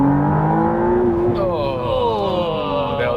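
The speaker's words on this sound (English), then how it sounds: "It actually makes a fantastic sound. It's really similar to like a naturally aspirated V6 sound." McLaren Artura hybrid twin-turbo V6 revving to around 7,000 RPM, a loud close rising engine note that climbs sharply then settles into a steady high-revving drone, with no talking over it.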